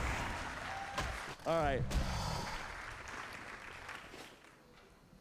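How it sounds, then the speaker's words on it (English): A room full of people bursts into applause and cheers for a player honoured in a Classic WoW hardcore gathering, with a host's voice heard over it before the sound fades away. "Can we get another round of applause for the number 1 17th place of the new era, Brandon Dollar?"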